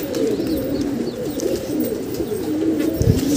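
Pigeons coo in a low, continuous rolling murmur near a rooftop loft in the sun, several birds overlapping steadily without pause and no speech.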